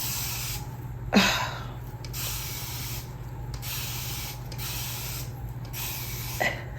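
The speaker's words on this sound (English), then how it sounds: "I grab a section and I spray." Several short hissing bursts from a spray bottle misting locs, spaced a second or so apart, close by over a steady background hum.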